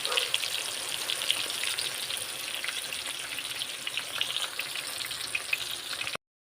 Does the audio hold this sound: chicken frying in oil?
yes